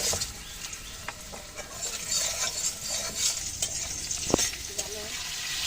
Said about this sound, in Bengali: ফোড়নে দিয়ে দিচ্ছি একটা শুকনো লঙ্কা আর একটা তেজপাতা। আলুগুলো দিয়ে দিচ্ছি।